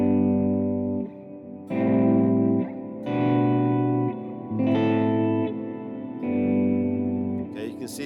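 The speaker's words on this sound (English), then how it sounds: "But to really get a great volume swell" An electric guitar played through a Fractal AX8 with auto swell set to a slower attack gives a series of chords, each one fading in smoothly. Distortion and chorus are on, and short gaps separate the swells.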